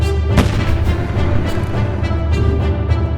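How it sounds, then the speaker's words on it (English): Rapid gunfire at fuel tanks and gas cylinders during an explosion-control system test cracks out in a dense, sustained burst, sharp repeated reports with a booming low rumble beneath, loud and close. "firing guns were fired on the fuel tanks and cylinders"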